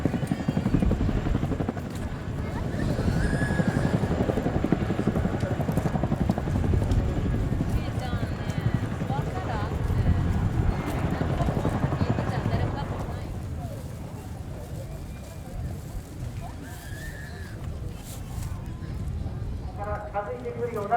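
A JASDF CH-47J Chinook twin-rotor helicopter flies a demo at the Misawa air show, its steady, loud rotor thump and turbine roar continuous throughout, with a crowd and announcer voices underneath.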